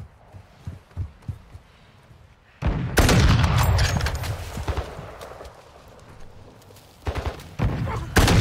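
Bursts of automatic gunfire from AI enemies in Warzone 2 DMZ, a sustained loud volley in the middle and more rapid shots near the end, with scattered thuds and quieter stretches in between.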